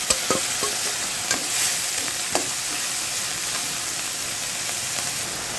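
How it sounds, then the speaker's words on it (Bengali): Green chili, bay leaves, cinnamon and cumin sautéing in hot oil for fish curry, a dense steady sizzle up close with a few brief spoon scrapes early on, then an even hiss with no voices. "একটু কষিয়ে নেব"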